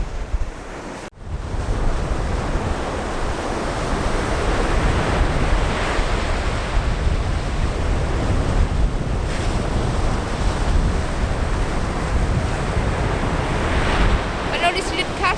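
Ocean waves crash and churn onto a fishing beach, a dense sustained roar of surf with strong wind noise on the microphone, close and loud after a brief bump at the start, no voices.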